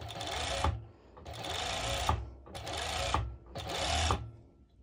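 A sewing machine stitches elastic onto the side of bikini bottoms in four close, even bursts of about a second each, with short pauses between them.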